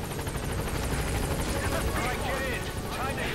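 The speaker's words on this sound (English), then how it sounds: "just waiting for the helicopter to arrive" Helicopter rotor chopping loudly and steadily nearby in Metal Gear Solid V, a rapid rhythmic thump over a whining engine, with a voice talking over it.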